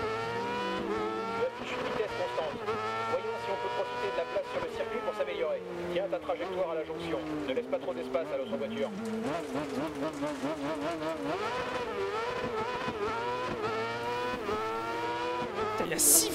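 A rallycross car in DiRT Rally 2.0 snarls continuously at high revs with rising and falling gear changes and tire skids, the engine loud and up front while someone talks over it.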